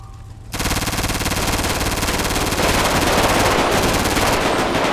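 A machine gun in a video game opens up after a brief quiet moment and keeps firing without a break, a loud, dense, rapid stream of shots that fills the rest of the clip with no talking over it.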